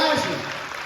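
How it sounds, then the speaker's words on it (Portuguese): A congregation claps for Jesus at an evangelical church service: a brief, dense burst of applause from many hands, steady and close. "Aplauda Jesus com força"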